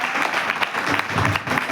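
An audience bursts into applause, a dense, steady wash of many hands clapping at once, loud and continuous for the whole stretch with no talk over it.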